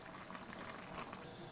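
Chicken and green beans simmer in water in a pot, giving a dense, steady bubbling boil heard up close for a short moment without talk.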